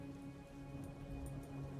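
Steady rain falls as a faint, even ambient wash with scattered soft drop ticks and no voices over it.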